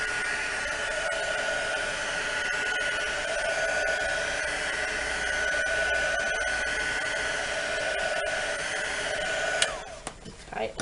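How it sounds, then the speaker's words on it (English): Heat gun blowing hot air to dry tea-dyed lace: a steady, even hiss and whine of airflow running nearly eleven seconds, close and moderately loud, cutting off near the end with a few small clicks and handling noises. "then they've been dried using a heat gun"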